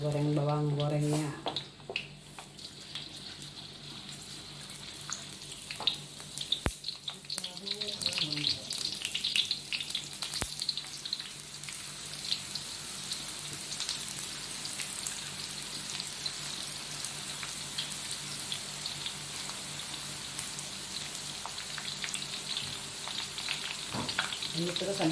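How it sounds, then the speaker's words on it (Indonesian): Shallots fry in hot oil in a pan with a steady, moderate sizzle and crackle, occasional stirring scrapes from a long spatula, and a brief voice at the start. "Kita goreng bawang gorengnya."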